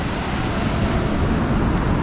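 Ocean waves surge onto the shore in a continuous close, loud wash of surf with wind noise and no clear voices.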